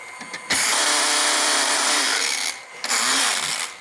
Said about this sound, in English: So it's great to grind it up a little bit in a spice grinder.